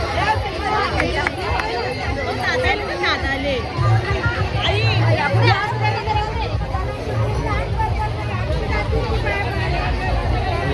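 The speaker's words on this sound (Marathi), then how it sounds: "एकदम काहीच लय गर्दी आहे" Busy crowd chatter at the Kelambadevi temple, a dense babble of many overlapping voices with footsteps and movement, close and steady throughout.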